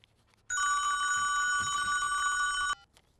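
A telephone rings inside a car, one long continuous electronic trill that starts abruptly, holds loud and steady for about two seconds, then cuts off, with quiet cabin ambience before and after.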